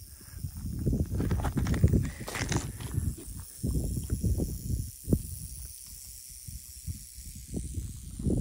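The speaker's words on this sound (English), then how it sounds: "Well, I encountered my first snake. I'm not sure if you can hear it." A Mojave green rattlesnake on a hiking trail makes a dry, rasping buzz in short bursts amid gusty wind and crunching footsteps, close and fairly loud.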